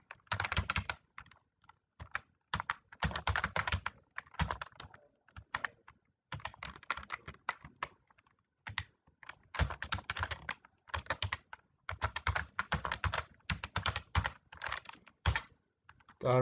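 Steady bursts of typing on a computer keyboard while filling in a CV form, close and clear, with clustered key clicks separated by short pauses and no voices.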